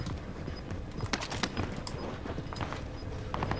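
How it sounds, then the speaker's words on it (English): Footsteps in Call of Duty: Warzone patter in a rapid, uneven stream of close, crunchy impacts buried in dense, noisy game ambience. "there's just like a lot of footsteps and I don't know where everyone's at."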